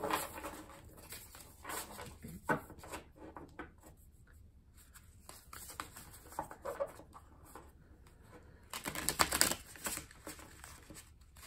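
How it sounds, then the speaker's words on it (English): Tarot cards are riffled and shuffled close by in irregular bursts of soft flicking and slapping, with quiet pauses between, ending in a louder flurry. "Let's give it one more shuffle"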